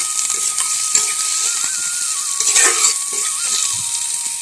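Small pieces of meat fry in hot oil in a pan, giving a steady close sizzle and crackle throughout, with a few louder spits and stirring scrapes.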